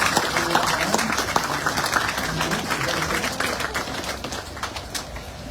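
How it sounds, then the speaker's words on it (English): An outdoor crowd at a bike park opening and ribbon cutting claps steadily, a dense crackle of many hands that slowly tapers off, with some voices underneath. "Let's give a round of applause and a thank you to Brian Schwartz"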